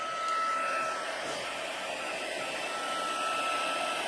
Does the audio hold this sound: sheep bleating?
no